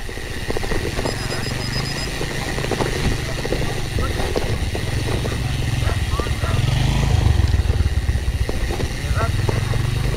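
A motorcycle engine drones and grows louder as it passes, with a rumbling hum. People talk over the engine noise.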